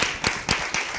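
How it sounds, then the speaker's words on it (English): Applause for composer Marilyn Shrude at the close of a music research program: brisk clapping with regular sharp claps standing out over a continuous wash, short, fairly loud and close, with no voices. "So let's give a big round of applause to Marilyn Shrude,"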